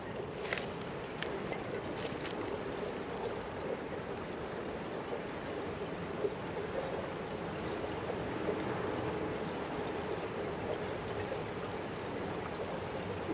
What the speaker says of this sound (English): Can you guys hear the water running underneath the ice?